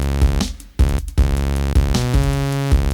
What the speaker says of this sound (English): what I've got here is I've got a drum beat and I have got two synthesizers